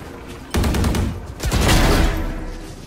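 Shotgun blasts in a first-person shooter video game: two heavy booming shots about a second apart, each followed by a rolling rumble and echoing tail, loud and close.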